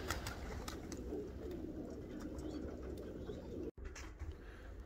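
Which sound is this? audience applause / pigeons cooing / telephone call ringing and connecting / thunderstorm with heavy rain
pigeons cooing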